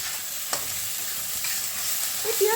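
Onions frying in oil in a pan while cooking a boal fish curry, giving a steady close sizzle throughout with a stirring scrape near the middle and a few brighter crackles toward the end.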